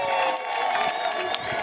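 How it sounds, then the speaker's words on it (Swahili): A church congregation bursts into loud applause and cheering, a dense crowd roar with clapping and shouts sustained across the whole short moment. "Pigia Bwana makofi mengi."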